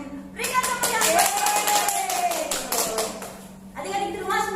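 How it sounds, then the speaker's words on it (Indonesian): Children clap their hands after a prayer at an online Sunday school, a burst of quick rhythmic claps mixed with voices, then a brief pause and more clapping near the end. "Berikan tepuk tangan"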